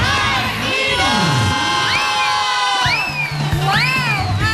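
A loud crowd at a send-off party for a boxer's upcoming fight cheers and shouts together, with rising whoops and excited yells in repeated bursts from many voices close by.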